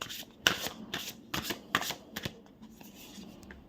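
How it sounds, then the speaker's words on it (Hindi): A deck of tarot cards shuffled by hand during a reading, a few quick riffling bursts and crisp card slaps up close, separated by short pauses, with no talking. "शफल करती हूँ थोड़ा सा"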